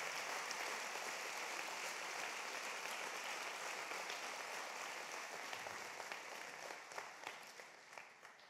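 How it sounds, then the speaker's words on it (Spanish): Church congregation applauding during a worship service, a dense, steady wash of many hands clapping that sounds fairly distant and holds for over eight seconds with a slight swell near the end. "Dale un buen aplauso al Señor."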